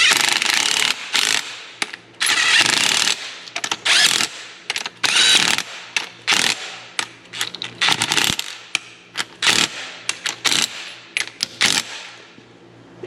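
Ratchet wrench snugging bolts during a Mack truck engine reassembly, heard as close, loud bursts of rapid clicking separated by short pauses, with metallic knocks between strokes and no talk.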